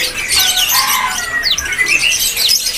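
A kacer magpie robin sings at a bird kiosk, loud close whistled phrases and sweeping squeaky notes pouring out continuously, with other kiosk birds faintly mixed in.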